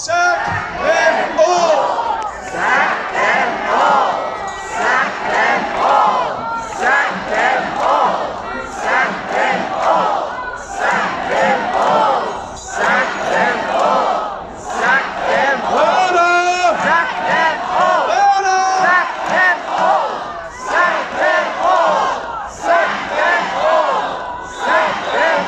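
A large crowd chanting "Sack them all!" loudly and repeatedly in unison, a dense roar of many voices rising and falling in rhythm throughout.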